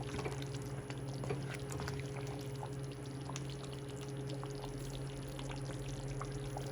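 Thick first-pressed coconut milk pours steadily into a pot of Kerala chicken curry, a soft continuous liquid wash against a low, steady background hum, with no talking.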